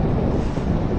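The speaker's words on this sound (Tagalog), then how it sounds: "ihip ng hangin" Steady wind roaring across the microphone, a dense low rumble with constant buffeting and no voices.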